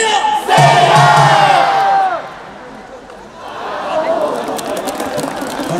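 A baseball crowd at Jamsil Stadium during an NC Dinos vs LG Twins game loudly chants and cheers in unison, a strong rising shout giving way to a quieter roar and renewed crowd noise.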